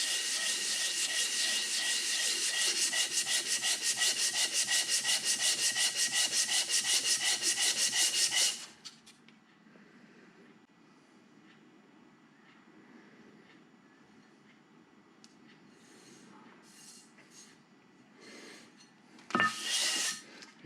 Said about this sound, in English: Give this a light rub on the belt sander here and here, and see if we can bring it closer.